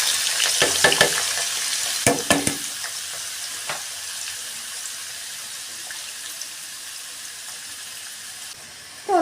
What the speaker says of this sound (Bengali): এখন কাটা আলুগুলো দিয়ে দিব